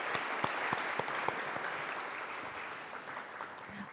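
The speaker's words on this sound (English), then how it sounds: "So round of applause for her, please." Audience applause for a mentor at an academic talk on uterine fibroids, a dense steady clapping wash with a few sharper claps standing out, fading slightly toward the end.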